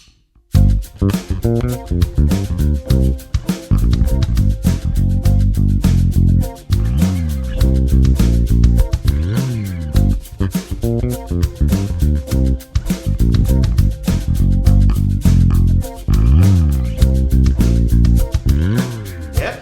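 A funky bass guitar plays alone, a solo, busy slapped and plucked notes with quick slides and bends, loud and close, pausing briefly now and then.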